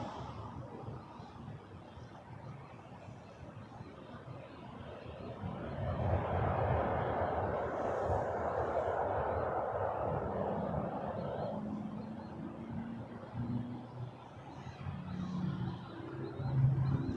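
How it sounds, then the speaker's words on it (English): An Air Canada Express RJ900 jet operated by Jazz Aviation lands at Toronto Pearson, with a broad engine roar that swells to a peak in the middle, fades, and then rumbles again, heard from some distance with wind. "RJ900 coming in next. Jazz Aviation for Air Canada Express Flight 950"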